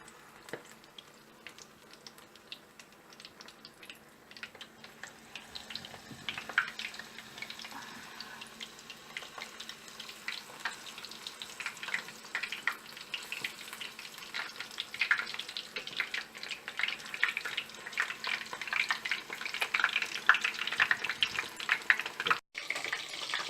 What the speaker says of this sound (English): In medium heat, you are going to fry for about 3 to 5 minutes